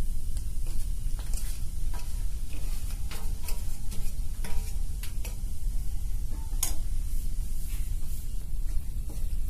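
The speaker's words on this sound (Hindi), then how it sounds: "देखिए फ्रेंड, घी हमारी गर्म हो चुकी है। अब मैं ये सिंघाड़े का आटा इसमें डालूंगी।" Water chestnut flour goes into hot ghee and is stirred, giving a steady close sizzle under repeated scraping and tapping of a utensil against the pan, with no talking.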